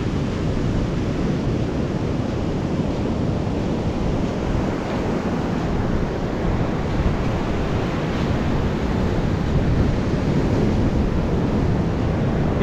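Sea surf rolling onto Valiyaparamba beach, a steady loud wash of breaking waves mixed with wind buffeting the microphone, continuous with no voices.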